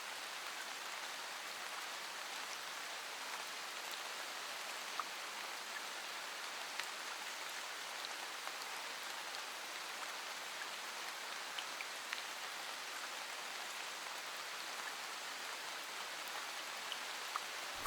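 Heavy downpour of rain, a dense, even hiss that holds steady throughout with no breaks, faint scattered drop ticks, and no voices.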